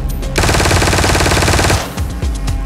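Sustained automatic gunfire from the video game Ring of Elysium, a loud rapid burst lasting over a second, then a few scattered single shots.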